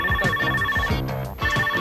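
A telephone rings loud and close with an incoming call, giving repeated electronic trilling bursts with a short pause before the ring starts again.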